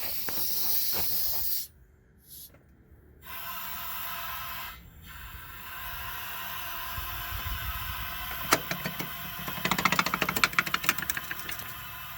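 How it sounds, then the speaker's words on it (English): Compressed air hissing as the airbag suspension of a Freightliner Cascadia semi truck inflates when the valve is lifted: a steady broad hiss with brief dropouts, then faint rapid clicking and rattles toward the end. "So I'm gonna lift the valve a little more. So it's gonna inflate the airbags a little bit more."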